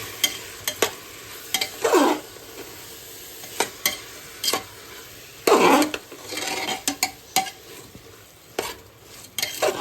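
Spiced rice with fresh field beans being stirred in a pan, giving repeated close scraping and clinking strokes of a spoon against the metal over a light sizzle, with two longer, louder scrapes among them.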